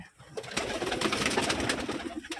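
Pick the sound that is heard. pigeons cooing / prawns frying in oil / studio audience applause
pigeons cooing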